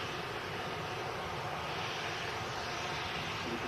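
A passenger airplane arriving from Toulouse roars with a loud, steady, broadband engine rush that stays constant and close throughout, with no speech.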